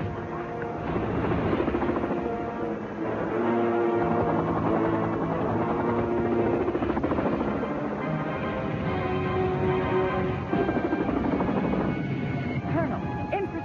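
A stolen helicopter flying overhead in a 1994 film chase scene near the World Trade Center, its rotor chopping steadily beneath dramatic orchestral music and shouted voices.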